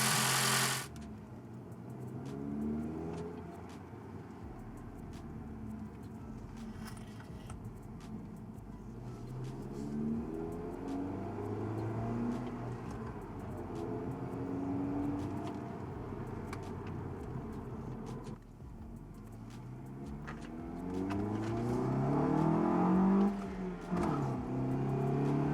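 A Toyota Corolla with a cold air intake, plug removed, driving along with a steady engine drone that rises and falls through several accelerations, wavering tones climbing and settling, heard from inside the car with road rumble underneath.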